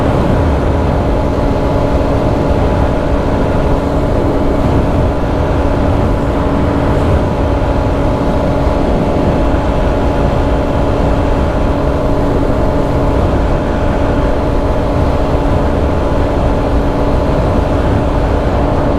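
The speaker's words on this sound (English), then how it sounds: "this entire stretch of road, I was definitely giving it full throttle all the way" Kawasaki KLX250 motorcycle held at full throttle in sixth gear on a flat road, a loud, steady engine drone with constant wind roar that holds unchanged throughout, no talk.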